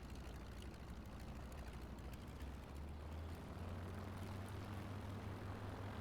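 A plane in Microsoft Flight Simulator 2024 flies over the Silverstone circuit. Its engine gives a steady, low droning hum with a deeper tone settling in partway through, and no one talks.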